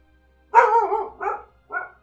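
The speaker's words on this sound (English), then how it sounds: "The dog agrees." A dog barks three times close by, a long first bark followed by two shorter ones with brief gaps, loud against an otherwise quiet room.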